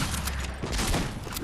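Gunfire from a gun in Fortnite comes as a rapid run of shots, several crisp bursts in quick succession over a busy, loud game background.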